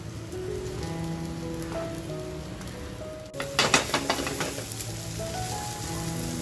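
A chicken roll roasts in a pan over a low gas flame with a soft, steady crackling sizzle that grows into louder bursts of spattering partway through.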